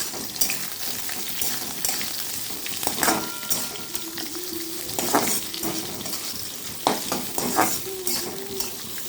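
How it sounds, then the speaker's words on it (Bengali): Potatoes fry in a pan for poha, a dense steady sizzle broken by stirring scrapes and spatula knocks, close and fairly loud with no speech. "তো এগুলো কিছুক্ষণ ভাজা ভাজা হোক"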